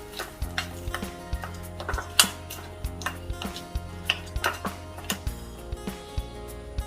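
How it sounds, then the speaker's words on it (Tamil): Coconut chutney being mixed after something is poured in: a spoon repeatedly clinks and scrapes against the dish in a quick, uneven rhythm, close and clear, with no voices. "ஊற்றி கொஞ்சம் மிக்ஸ் பண்ணி எடுத்துக்கொள்கிறேன்."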